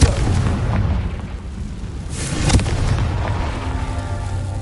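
In Hogwarts Legacy, a Confringo spell lands as a deep, rumbling explosive boom with a sharp crack around the midpoint, set against a steady background game din.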